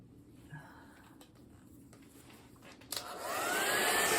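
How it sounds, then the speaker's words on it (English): A blow dryer switches on partway through and runs loud and steady, drying a watercolor painting of leaves and feathers, after a quiet stretch of faint room noise. "Let me grab the blow dryer."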